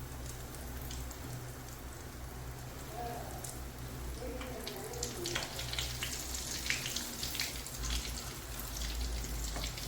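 Cutlets deep frying in hot oil, a continuous dense bubbling sizzle that carries on steadily throughout, quiet and even, with no voices.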